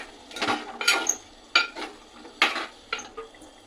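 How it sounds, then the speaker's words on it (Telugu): A spoon stirs chicken curry with chicken masala in a pan, giving a handful of close, sharp scraping and clinking strokes in an uneven rhythm with brief pauses between them. "చికెన్ మసాలా వేసుకున్న తర్వాత తిప్పుకోవాలి."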